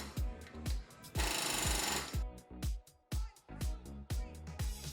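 Impact tool driving lug nuts onto Ford Focus wheel spacers, rapid hammering bursts in short repeated runs with a longer buzzing stretch, close and loud.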